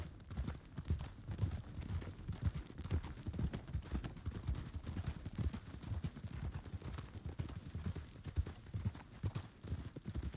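Video game horse walking at a slow pace, hooves clip-clopping in a steady, even rhythm for the whole stretch, fairly quiet and alone with no talk over it.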